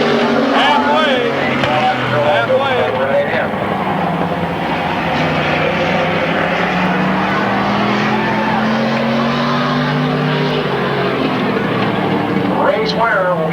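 Several race cars roar around a corner at a small oval speedway in a 1995 race with four cars left running, engines loud and continuous with rising and falling pitch, while an announcer talks over the action.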